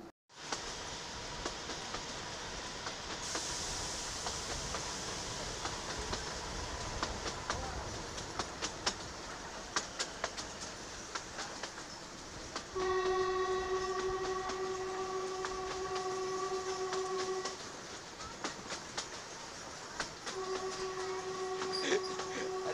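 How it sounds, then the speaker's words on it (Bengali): A passenger train rolls along with a steady rumble and clatter of the wagons, and two long, loud horn blasts sound midway through and near the end. "তারপরে ট্রেনটাকে আবার ছাড়া হবে"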